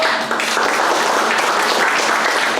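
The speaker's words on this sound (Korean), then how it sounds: "박수 쳐봐요" An audience claps steadily through a lecture hall during a talk by a former CIA officer in Washington, loud, dense and continuous applause with no break.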